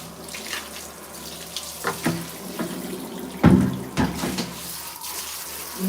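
Tap water runs steadily into a sink while shoe soles are washed, with a few knocks and splashes of handling breaking through the continuous close-up flow; no one speaks.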